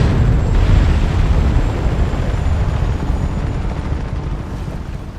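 A big explosion in the video game Just Cause 3 booms with a deep, loud rumble that slowly rolls off and fades over several seconds, with no voices over it.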